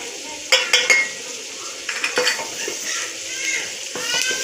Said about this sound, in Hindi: अब इसको भूनेंगे थोड़ी देर के लिए।